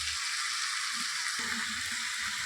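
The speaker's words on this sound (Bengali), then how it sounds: "চিকেনটা মোটামুটি ভাজা হয়েছে" Chicken sizzles steadily in a pan on the stove, a soft continuous hiss of frying with faint scraping or stirring sounds underneath.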